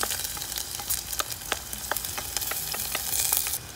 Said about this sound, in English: So saute well, let the ginger garlic turn light golden, do not burn them.